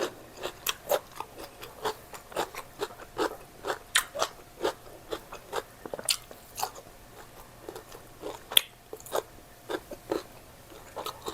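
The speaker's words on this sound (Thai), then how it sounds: "มดแดงก็รอบกรอบ" Crunchy red ants from Isan cuisine chewed close up, a steady series of sharp crisp bites and crunches repeating for several seconds, loud and clear with no talking.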